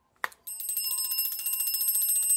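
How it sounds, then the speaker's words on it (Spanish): A building fire alarm bell rings continuously during a test after a brief sharp click, its bright metallic tone sustained and steady at moderate loudness. "la alarma suena"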